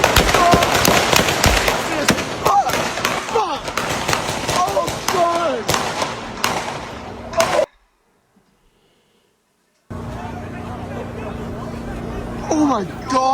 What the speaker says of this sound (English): But this is the actual shooting.